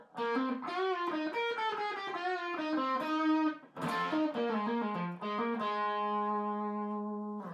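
A distorted electric guitar solo from a song with bends and quick runs, ending on a long sustained note that rings out alone.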